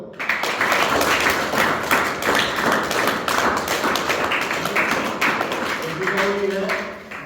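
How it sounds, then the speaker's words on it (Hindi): A crowd breaks into a round of clapping, dense rapid claps rising and falling for several seconds before thinning out, with voices audible near the end. "तो आप उसके लिए एक बार ताली बजाओ"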